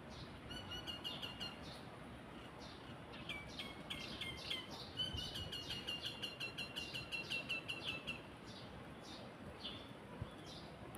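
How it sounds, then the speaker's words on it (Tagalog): Birds twitter and call after an afternoon rain shower, bright repeated chirps in short runs that cluster in the middle and then thin out, fairly distant over a soft background hiss. "mga ibon nagliliparan"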